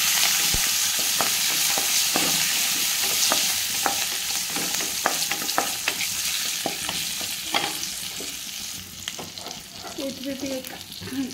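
Dried red chilies with cumin and mustard seeds fry in hot tempering oil for an Odia curd okra curry, with a steady sizzle and repeated scraping stirs and clinks of a spoon against the pan, no talking.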